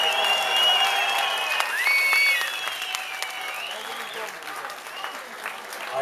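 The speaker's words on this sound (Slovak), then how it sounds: "Poprosím veľký aplauz pre víťaza Ivana Barteka." Audience applauding and cheering for the winner of a heavyweight Thai boxing bout at an Extreme fight event, steady clapping from a crowd with a voice talking over it.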